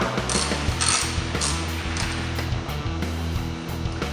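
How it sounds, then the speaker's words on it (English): Ratchet snugging down caster bolts on a B2 edger, giving steady rapid clicking pawl ratchets close up over a continuous mechanical rumble, with no pauses through the whole stretch. "Take your ratchet, snug these down, and you just want to snug them in."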